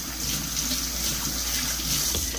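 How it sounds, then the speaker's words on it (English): Hands rinsing under a running kitchen tap, a steady continuous rush of water close by with no talking. "So just rinse our hands."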